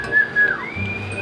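A person whistles to coax a polo horse to urinate, giving a short, clear, close whistle in two quick notes followed by a longer, rising tone.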